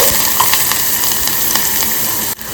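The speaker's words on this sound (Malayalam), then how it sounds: "ഇനി അരിഞ്ഞു വെച്ചിട്ടുള്ള 5-6 ചുവന്നുള്ളിയാണ് ഞാൻ ഇട്ട് കൊടുക്കുന്നത്." Chopped red shallots frying in hot coconut oil in a pan for a Kerala prawn curry, a loud close continuous sizzle with crackling spatter that drops off sharply at the end, no talking.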